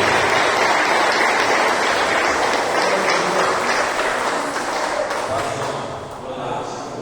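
A church congregation applauds in a worship service, sustained heavy clapping from a large crowd with voices cheering through it, easing off slightly toward the end.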